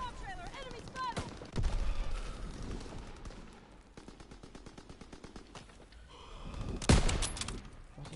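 Gunfire in a WW2 shooter game: rapid automatic bursts and scattered shots, one louder close blast near the end, with someone talking over parts of it.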